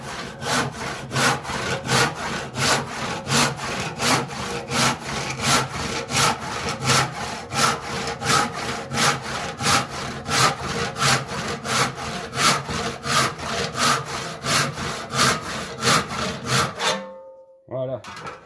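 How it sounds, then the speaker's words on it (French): A freshly sharpened hand saw cuts through wood in steady, even back-and-forth strokes, each rasping pass loud and close, about two per second, ending abruptly near the finish. "Alors c'est une scie de chantier."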